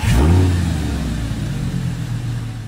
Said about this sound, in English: The bass thrum of the V10 can set off car alarms